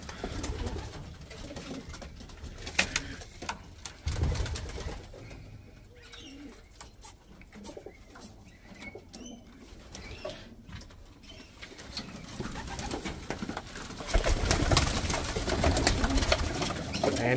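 Racing pigeons coo in a loft, soft repeated throaty calls layered over one another, with occasional wing flaps and a few louder bursts near the end, close by.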